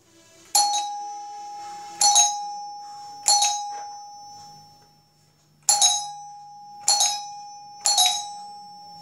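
Electric calling bell wired for control from two places with indicating bulbs, ringing in six sharp rings with ding-like onsets and a steady tone that fades between presses, loud and close with no talk.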